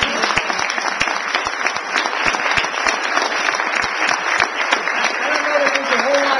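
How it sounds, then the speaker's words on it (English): An audience of about eighty people applauds a group of high school student presenters at a literacy and technology conference session: loud, continuous clapping with sharp individual claps standing out, and a voice briefly audible near the end. "I'd like to give these guys a round of applause."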